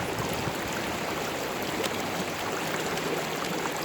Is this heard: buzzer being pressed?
no